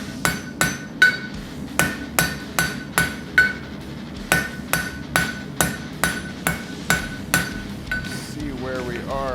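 A hammer strikes a nail on an anvil in steady, evenly spaced ringing blows, forging and flattening it into a road spike; about twenty close, sharp metallic hits with a bright ring.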